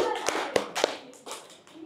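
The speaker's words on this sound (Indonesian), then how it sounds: "beri tepuk tangan dong untuk kelompok 3" A small class of students claps for group 3 during a micro-teaching practice lesson, a few loose, scattered claps with sharp individual hand slaps, fairly close, over a faint background murmur.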